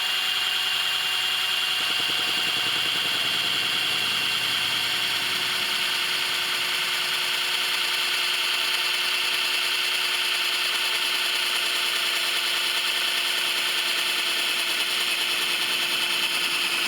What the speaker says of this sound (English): What I'm going to do is drill a hole right between these clips.